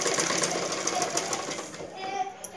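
A sewing machine stitching dress cloth runs in a fast, steady mechanical chatter, close and moderately quiet, with faint voices in the background.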